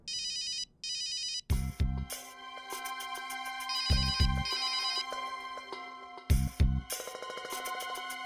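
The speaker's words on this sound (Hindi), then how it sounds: "विनी का फोन इतने दिनों बाद?" An electronic phone ringtone plays a repeating melodic pattern in loud bursts with brief pauses, no voices.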